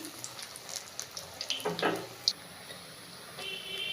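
Drumstick flowers are washed by hand in a bowl of water, soft splashes and swishes coming in short bursts up close, fairly quiet with brief pauses between the sloshing movements.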